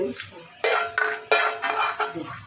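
Bitter gourd sautés in oil in a kadai, with a spatula clattering and scraping against the pan in several short, close bursts.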